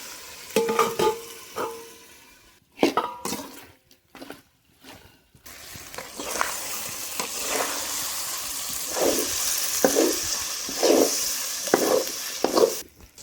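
Chicken cooking in its own juices in a covered pan, with stirring scrapes, bursts of sizzling and bubbling that come and go, loud and close, with brief quiet gaps.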